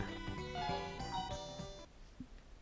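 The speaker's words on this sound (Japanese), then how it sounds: "懐かしい携帯電話の感じ。" An old-fashioned mobile phone ringtone in a 1998 Sega Saturn game plays a bright melodic beeping tune for about two seconds, then cuts off into quiet background.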